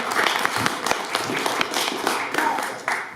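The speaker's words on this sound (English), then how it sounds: "Yeah, you guys can clap." A film festival audience at a filmmakers' Q&A in Kanab claps, a steady patter of many hands in a room, with scattered sharper claps standing out over three seconds.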